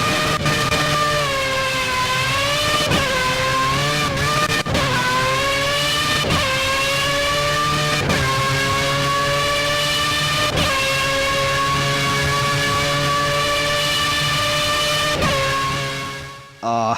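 A race car engine in the Project CARS video game revs loud and harsh, climbing through several gears with sharp upshift breaks, and holds a high, sustained whine to the end.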